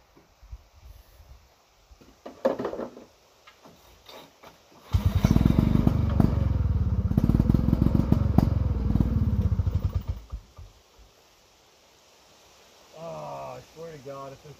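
A Ski-Doo Elan snowmobile, just picked up from a farm, runs with a loud rough putter for about five seconds, then stops; quieter clatter comes before and after, and a voice speaks near the end.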